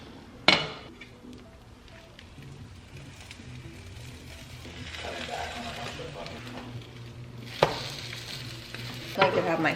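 Eggs, spinach and peppers for an omelet cook in a pan, sizzling softly and steadily, with a few sharp clinks of a utensil against the pan.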